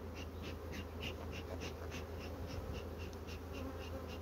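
Honeybees buzz at a small hive colony being treated, a dense steady drone of many wings with individual bees zipping past close to the ear, no voices.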